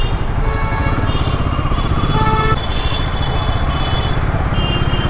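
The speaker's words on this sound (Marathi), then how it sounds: "मुंबईमधून तुम्हाला ट्रॅफिकपासून सुटका नाही." Motorcycle engines idle and rev in a rainy Mumbai traffic jam, a loud continuous rumble close by with other vehicles around and brief horn-like tones in the mix.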